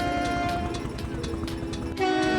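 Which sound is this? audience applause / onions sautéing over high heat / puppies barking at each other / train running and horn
train running and horn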